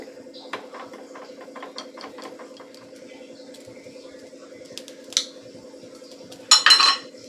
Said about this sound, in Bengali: ফেটিয়ে নেব একটা চামচের সাহায্যে ভালো করে কিন্তু ডিমটাকে ফেটিয়ে নিতে হবে